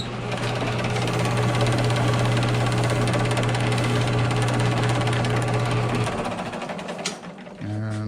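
A buffing machine smooths a scuffed toe on a black Christian Louboutin slingback, a loud, steady whirring drone with a low hum that cuts off near the end, followed by a brief clatter.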